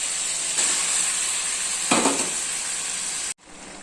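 Raw prawns go into a pan of well-sautéed onion and tomato for prawn thokku, giving a steady, close sizzle and frying hiss with a brief louder burst midway before it cuts off sharply near the end.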